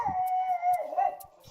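A small pug howls in one long, wavering, tonal cry that rises and falls, close and fairly clear, with a few faint clicks and rustles around it and no talking.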